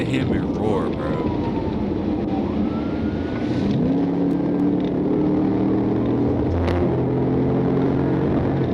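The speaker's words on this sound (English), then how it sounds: "Look, listen to that Hemi roar," A Hemi V8 roars under talk in heavy traffic during a high-speed chase, a steady engine drone with a rising tone partway through and persistent road noise throughout.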